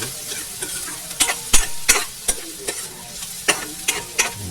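Garlic sizzles in a hot pan for pork adobo while a spatula knocks and scrapes it in a loose, repeated rhythm, close and fairly loud over a constant frying hiss.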